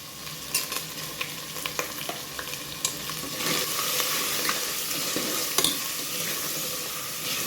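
Onions and curry leaves sizzle in a hot pan for a mutton kuzhambu while a spoon stirs and scrapes, the frying hiss rising and thickening midway, close and steady with no voices.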